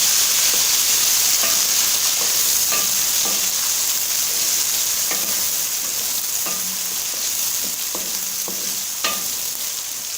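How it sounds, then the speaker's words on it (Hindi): Chopped tomatoes fry in a pan with garlic ginger paste, giving a loud continuous sizzle close up, while a spoon stirs and scrapes through them in repeated light clicks and knocks. "2 मिनट मैंने लहसुन अदरक के पेस्ट को फ्राई कर लिया। अभी मैं इसके अंदर ऐड कर दूंगा टमाटर।"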